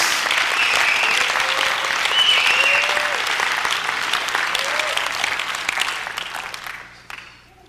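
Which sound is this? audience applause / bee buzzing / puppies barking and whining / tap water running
audience applause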